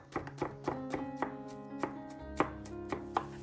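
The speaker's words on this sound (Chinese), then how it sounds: "将西葫芦切成两半，然后用勺子煮去锅里，切成小块" A knife chops zucchini into small pieces on a board, about a dozen crisp, evenly spaced taps close by with no talk.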